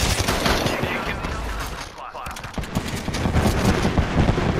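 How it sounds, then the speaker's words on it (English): Rapid, dense gunfire in the video game Apex Legends crackles continuously and loudly throughout, a near-constant fusillade of shots with a brief dip midway, under occasional voice chatter. "They're shooting from all the way up top."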